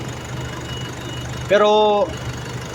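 A Nissan Terra diesel engine idles with a steady, moderately loud rumble throughout. It has a suspected strong injector spray and heavy smoke, and someone briefly speaks over it.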